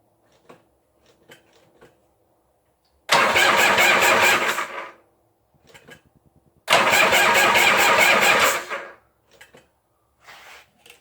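An XL WNG 1000 engine cranks in two long bursts of whirring, churning noise separated by a pause, with faint clicks and rattles in between.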